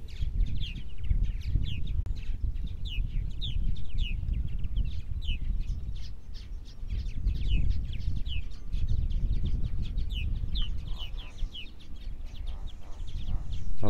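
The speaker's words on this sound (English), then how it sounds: "we can hear the babies chirping inside the cavities now" Baby purple martins chirp inside their nest cavities, rapid high peeping calls repeating throughout at moderate distance over a steady low rumble of background machinery.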